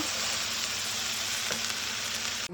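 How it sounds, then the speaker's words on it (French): Onions fry in a hot pan with a loud, steady, close sizzle that holds throughout, broken by a brief clatter of stirring near the middle. "On y met les oignons. On mélange bien."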